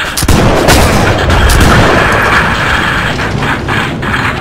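Heavy mechanical clanking and booming aboard a sailing ship in the naval combat game Blackwake as cannons are loaded, a loud dense continuous rumble with sharp metallic impacts throughout, no voices.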